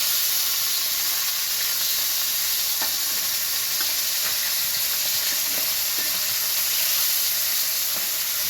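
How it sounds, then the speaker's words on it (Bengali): Fish fried in hot oil for a mashed-fish dish, giving a steady, close, continuous sizzle and hiss that holds even for the whole stretch, with faint scattered pops and no talking. "ভালো করে মাছগুলোকে ভেজে নিতে হবে।"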